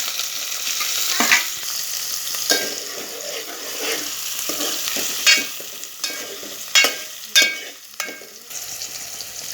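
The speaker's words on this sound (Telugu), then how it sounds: "నెక్స్ట్ మనం ఆనియన్ ఇంకా పచ్చిమిర్చి అనేది వేసుకోవాలి." Onion and green chillies frying in hot oil with cloves, cinnamon and cardamom for a chicken curry, a steady close sizzle broken by several sharp scraping stirs of a spoon against the pan.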